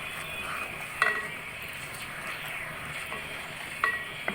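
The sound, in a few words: cumin seeds frying in hot butter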